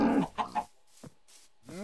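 Minecraft chickens cluck in a few short, close bursts separated by brief silences, a farmyard fowl sound heard alone without speech.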